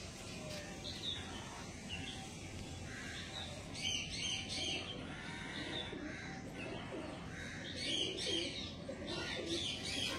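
Domestic flying pigeons coo and chirp in soft, repeated calls against a steady, noisy background, with no one speaking.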